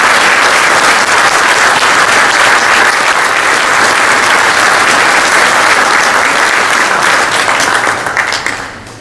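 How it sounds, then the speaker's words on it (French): A large crowd applauds volunteers at a championship, a loud, dense, sustained wash of clapping that holds steady throughout before tapering slightly at the very end. "donc on peut vraiment applaudir tous ces bénévoles"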